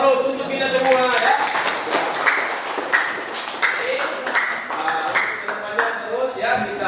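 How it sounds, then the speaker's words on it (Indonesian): A class of students claps together in applause, a dense run of many overlapping hand claps that carries steadily for several seconds at close-to-moderate range, with a voice speaking over it. "Kita kasih dulu aplaus untuk kita semua ya"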